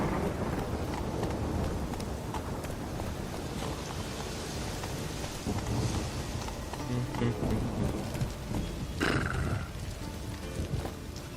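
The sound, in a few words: rain and thunder in The Witcher 3 video game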